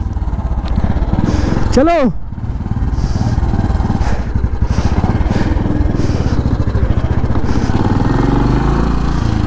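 An old motorcycle engine, the oldest bike in a group riding near Kullu-Manali, runs close and loud with a steady low chugging idle, while a voice speaks briefly over it.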